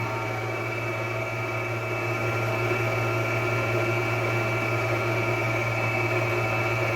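Electric mixer whirring steadily through cheesecake batter for a New York style cheesecake, a constant loud motor drone with a low hum and no pauses.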